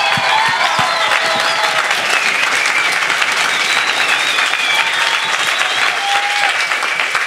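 A science slam audience in Freiburg claps and cheers to vote for a performer, a dense, loud wave of applause with whoops and shouts sustained throughout.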